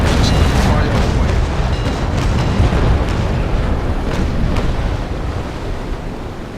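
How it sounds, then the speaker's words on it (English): Cannon broadsides roar in the Naval Action naval combat game, a dense continuous rumble of heavy booms with crackling bursts over wind and sea, loud throughout and fading slightly toward the end. "Just fire away."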